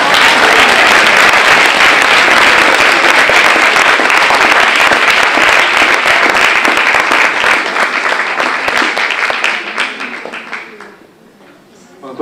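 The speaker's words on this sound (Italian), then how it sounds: "E facciamo anche un applauso a Marco Pantani," A live audience claps loudly and continuously for about ten seconds, a dense roar of hands that thins and fades out near the end.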